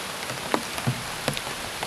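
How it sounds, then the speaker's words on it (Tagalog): Heavy rain falling outdoors at night near a mound, a steady wash of drops striking surfaces with a few louder splashes standing out, moderately close and with no talk. "So, malakas lalo yung ulan, no?"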